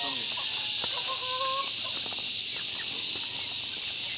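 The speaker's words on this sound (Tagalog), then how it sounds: "Daming manok, oh." Many chickens cluck and squawk at close range around an open coop, with short overlapping calls and one drawn-out cackle over a constant background hiss.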